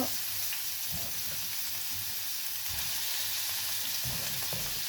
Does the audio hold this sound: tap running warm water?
no